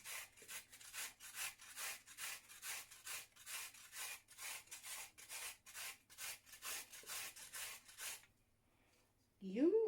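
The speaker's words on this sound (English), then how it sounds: "I'm going to take the coconut, I'm going to take this grinder" Coconut grated with a hand grinder, producing about twenty even, rhythmic rasping strokes up close, then a pause and a short vocal exclamation at the end.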